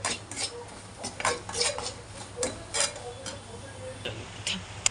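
Metal spoon scraping and clinking against a pan in short irregular strokes while stirring spices for Sindhi kadhi, close by, with a steady low hum underneath.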